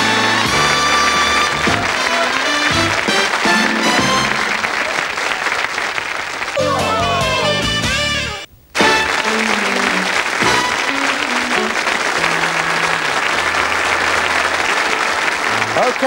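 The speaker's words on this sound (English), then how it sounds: "Give them a round of applause, folks." A studio audience on the 1985 game show 3-2-1 applauds loudly over bright theme music, with a brief drop to near silence midway before the clapping and music resume.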